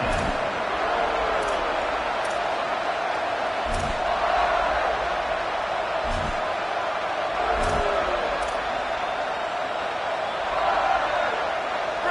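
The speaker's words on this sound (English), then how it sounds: "This crowd ready to make its presence known." A stadium crowd roars steadily throughout a college football game, a dense continuous wash of cheering with a few sharper thumps and shouts rising out of it.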